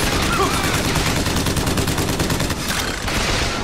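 Dense, continuous gunfire fills a BioShock Infinite firefight, with crank-gun bursts and overlapping shots cracking without pause, loud and close throughout.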